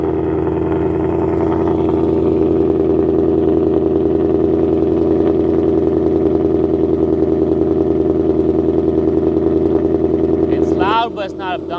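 Ford S650 Mustang with aftermarket headers idles loudly, a steady deep exhaust burble holding for about eleven seconds before a brief shift near the end, with faint chatter in the background.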